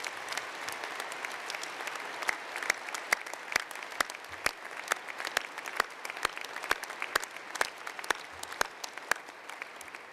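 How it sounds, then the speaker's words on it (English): Audience applause at a university graduation ceremony in honour of the Pro-Chancellor, with steady, dense clapping from a large crowd in a hall. It stays fairly even throughout, with sharp individual claps standing out against the general patter. "join me in a round of applause in appreciation of our Pro-Chancellor"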